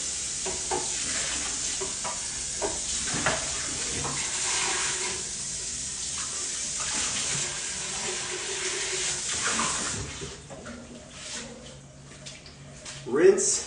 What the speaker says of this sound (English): I'm just gonna rinse it.